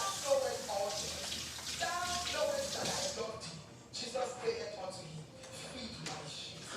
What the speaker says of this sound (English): I gotta wash my hands for this.